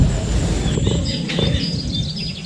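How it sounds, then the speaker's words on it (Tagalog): Birds chirping and calling repeatedly in the morning at a campsite over a steady background rumble, with several short tweets overlapping. "Pagkatapos maririnig mo yung mga huni ng ibon."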